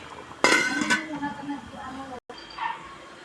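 A metal lid clanks down onto a cooking pot of fish soup, a sharp clatter of pot and lid up close, followed by quieter rattles and kitchen clinks.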